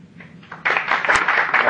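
After a quiet start, an audience at a public speaking class breaks into applause, a thick, even wash of clapping that stays fairly loud for the rest of the moment.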